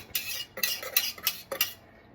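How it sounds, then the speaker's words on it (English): Candle wax being stirred in a container, a utensil scraping and clinking against the sides in about four quick bright strokes, close and fairly quiet, with no talking. "Give that a good stir"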